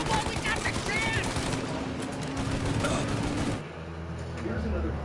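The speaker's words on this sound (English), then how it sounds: "Shoot now while we got the chance!" Rapid bursts of gunfire from a PS4 video game crackle densely for several seconds, then cut off abruptly into a quieter, muffled background with a hint of voices.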